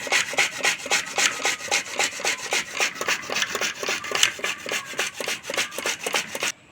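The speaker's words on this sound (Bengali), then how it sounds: "গ্রেটারে করে প্রথমে আমগুলো গ্রেট করে নেব।" Mangoes rubbed against a grater, giving a fast, even run of rasping strokes, close and loud, that stops abruptly at the end.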